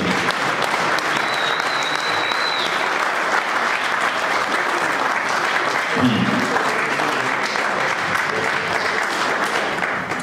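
A church congregation applauding and cheering in sustained, dense clapping that fills the room, loud and continuous with crowd voices mixed in.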